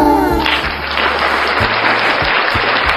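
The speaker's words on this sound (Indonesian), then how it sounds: "Maka tepuk tangan buat Islam." Audience applause for a speaker at an Islamic talk, a loud wash of clapping that swells after a brief tonal sound at the start, with low rhythmic thumps pulsing underneath.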